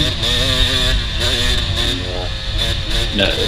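A dirt bike engine spins hard in fifth gear during a motocross race lap, a loud, sustained droning whine with shifting pitch, heard under someone talking over it.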